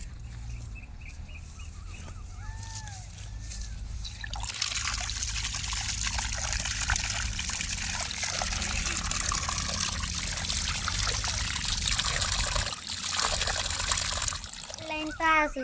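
Water is poured and trickles steadily at close range for a long stretch, with splashing, faint background voices and a voice.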